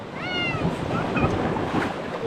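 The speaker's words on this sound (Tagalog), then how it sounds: "Lakas ng alon mga idol." Strong ocean surf crashing on a beach during a seaside catch-and-cook outing, a steady loud wash of water with a brief high cat-like cry near the start and faint voices in the background.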